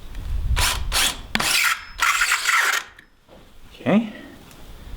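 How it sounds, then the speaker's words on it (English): Ratchet clicking in several quick bursts as a socket set with a 5/16 socket snugs a bolt down on a tiny house door build, close and loud, followed by a short scrape. "I'm going to use a socket set to get it down the rest of the way."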